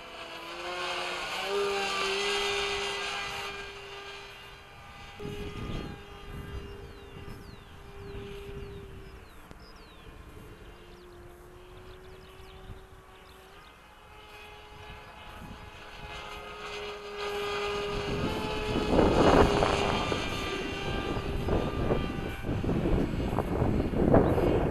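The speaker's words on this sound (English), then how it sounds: "this plane is totally awesome" A model airplane flies outdoors on a windy day, its engine whining at a steady pitch that rises and falls as it passes, growing louder and more roaring toward the end.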